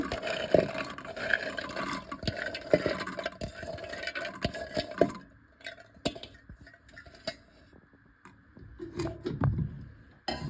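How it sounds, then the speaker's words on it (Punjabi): Soaked black chickpeas are rinsed in water in a kitchen, with splashing, sloshing and clinking of a vessel in irregular bursts up close, growing quieter in the middle before more swishing. "ਦੋ ਵਾਰੀ ਚਨੇ ਸਾਫ਼ ਕਰਕੇ ਫੇਰ ਆਪਾਂ ਪਾਣੀ ਭਿਆਏ"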